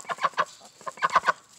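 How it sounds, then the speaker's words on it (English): Farm chickens cluck nearby in short bursts, two quick clusters of sharp clucks separated by a brief pause, loud and close with no talking. "this morning we're out here with the birds."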